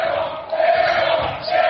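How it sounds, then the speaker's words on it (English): Basketball crowd in a high school gym roaring with a loud sustained swell of voices after a fouled player on the rebound, rising again near the end. "Crowd gets on him for that one, Tom."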